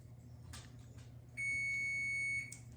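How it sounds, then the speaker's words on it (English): An oven's preheat buzzer sounds a single steady electronic beep for about a second, clear against a quiet kitchen hum with faint clicks before it. "Our buzzer just went off on our oven, so that means our oven's preheated."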